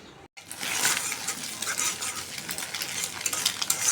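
Egg sizzles in a hot pan as it is stir-fried into a prawn fry, with a spatula scraping and clinking against the pan close up, and no voices.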